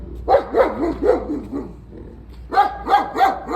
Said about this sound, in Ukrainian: Дуже гарна, дуже гарна собака.